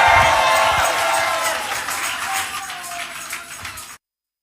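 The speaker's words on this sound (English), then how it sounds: "Somebody clap your hands, all ye people." A church congregation claps and cheers together in a dense, loud wash of hands and voices that slowly thins, then cuts off abruptly.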